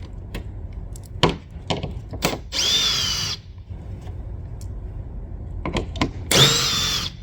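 A power drill backs self-tapping screws out of a fiberglass monster truck body in two short, high whirring bursts separated by handling clicks and knocks, close and clear.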